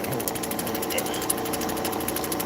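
A lapidary grinding wheel shapes a JB Weld edge on turquoise with a loud, steady, close mechanical whir and a harsh buzzing rattle that runs unbroken throughout.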